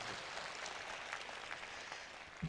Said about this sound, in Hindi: दोस्तों अब आपकी तालियां सबसे जोरदार आनी चाहिए